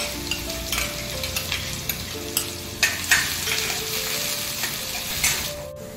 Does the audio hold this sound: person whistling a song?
no